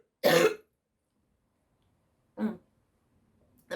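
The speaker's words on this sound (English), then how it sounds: "excuse me, I'm gonna cough." A person coughs, one harsh burst followed by a second softer cough a couple of seconds later and the start of a third, close to the microphone.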